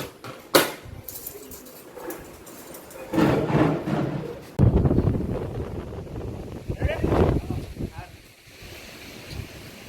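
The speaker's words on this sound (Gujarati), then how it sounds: "પવન જોરદાર" Strong wind gusts across a rooftop where solar panels are being installed, roaring and buffeting the microphone in uneven surges, with voices talking close by.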